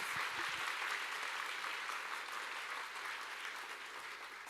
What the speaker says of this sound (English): Please join me for the last round of applause to Dr. Chadchart Sittipunt, Bangkok Governor